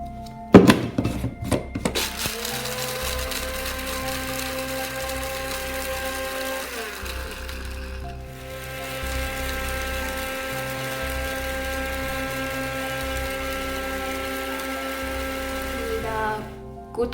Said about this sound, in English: we put these stars also in the blender